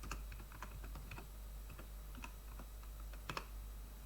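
Typing on a computer keyboard while entering Python commands, a steady stream of quick, close key clicks with a couple of sharper louder taps near the end, no voice over it.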